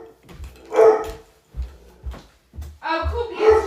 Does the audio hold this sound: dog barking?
yes